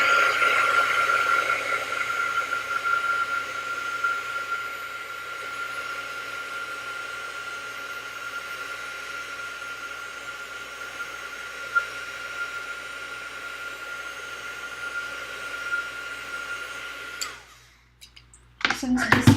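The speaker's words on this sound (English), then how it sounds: "I'm just going to quickly hit this with my heat tool." A heat tool blows a steady, loud whirring hiss as it dries white pigment ink on a handmade interactive card. It runs close and continuous for most of the clip, then cuts off near the end.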